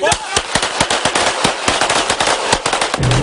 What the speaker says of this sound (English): Deputies confronted him during a 4-hour gunfight with sheriff's deputies